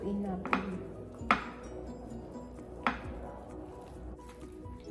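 Raw squid being tossed with cornstarch in a bowl, giving a few soft, sharp clinks of utensil against the bowl among quiet squishing, with a person speaking nearby.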